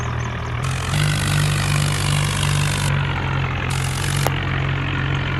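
Tractor engine straining while hauling a heavy sugarcane load at night, a steady loud low drone with a throbbing rhythm, pitch holding under load, close and continuous with no talk.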